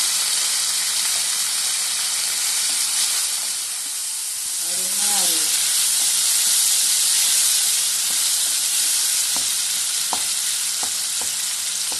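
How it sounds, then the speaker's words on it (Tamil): Onion, tomato and curry leaves fry in a pan with a loud, steady hiss and sizzle, punctuated by a few soft clinks near the end. "வெங்காயத்தை போடுறேன். தக்காளியும் போடுறேன். கருவேப்பிலை கொத்தமல்லியே போடுறேன்."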